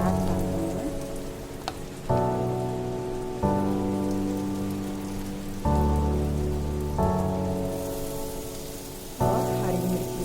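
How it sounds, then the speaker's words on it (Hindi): Onions dropped into hot oil for Mumbai street-style pav bhaji give a steady, close, rain-like sizzle that runs through the whole clip, under background music whose chords change every second or two. "गरम ऑयल में प्याज डालेंगे"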